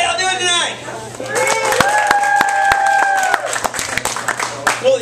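Scattered clapping and light crowd noise rise at a first-anniversary comedy night at Bookworm Bakery & Cafe, with a performer's voice speaking over and around the applause.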